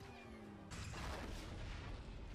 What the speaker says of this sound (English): Oh, that was a cool explosion.